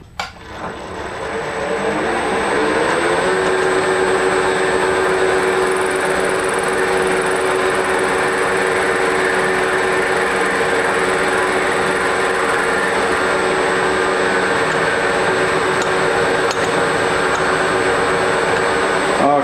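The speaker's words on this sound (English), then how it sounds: "Okay, here we go, climb milling" A milling machine climb milling hums and grinds continuously, the cutter noise ramping up in the first two seconds and then holding a loud, steady, near whine with no talking.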